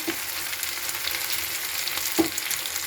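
Chili hits hot oil with turmeric already in the pan, producing a steady close frying crackle with two brief clacks of a spoon.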